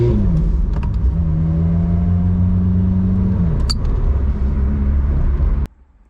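A Ferrari F430 Spider with a manual gearbox revs its engine up and holds a high, steady howl before the note drops away abruptly at the end, loud and close, with no voices.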